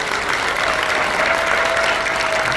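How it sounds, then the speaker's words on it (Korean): Crowd applause at a talk event with civic group representatives, a steady, even wash of clapping from a sizable audience that holds constant throughout. "이분들에게 박수 한번 보내주십시오."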